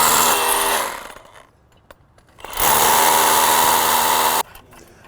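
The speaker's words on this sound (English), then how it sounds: "we'll drill our holes right there" A power drill bores holes through a metal post anchor into a paver patio deck in two loud bursts: a sustained whine for about a second, then a pause, then a longer run of roughly two seconds before cutting off abruptly.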